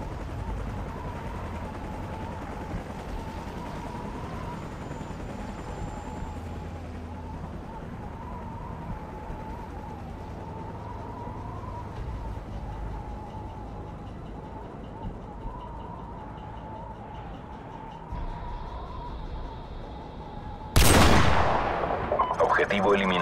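A single sharp sniper rifle shot rings out in the Call of Duty 4: Modern Warfare Remastered mission 'One Shot, One Kill', loud and close, cutting through a long stretch of steady ambient background hum near the end.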